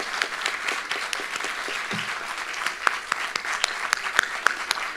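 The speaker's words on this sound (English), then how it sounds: "Please join me in giving our graduates one final round of applause." Audience applause for graduates at a university nursing graduation ceremony: a steady wash of clapping with sharp individual claps standing out near the mic, continuous for the whole stretch with no talk.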